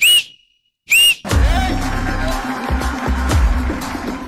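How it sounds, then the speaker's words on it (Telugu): Two sharp, loud whistle blasts ring out close together at the start on a televised dance show stage, followed by a busy mix of crowd and stage noise. "విజిల్ కొట్టి"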